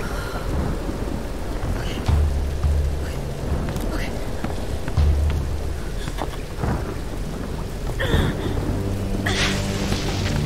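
Steady rain with low rumbling thunder in the Tomb Raider video game, a continuous wet wash broken by several deep rolls and a couple of sharper cracks, with faint talk in the background.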